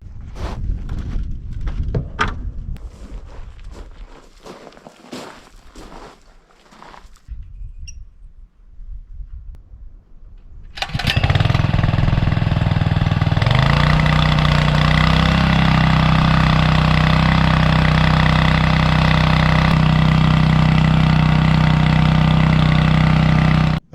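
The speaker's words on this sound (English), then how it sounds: "I'm over here getting the pump set up to fill the tank." A water pump motor filling a tank starts after about eleven seconds of handling clatter and quiet. It then runs as a loud, steady, close mechanical drone with a constant low hum until the end.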